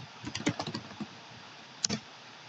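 Quick keystrokes on a computer keyboard tap out a password, a short cluster of close clicks followed by a pause and a final pair of firmer presses.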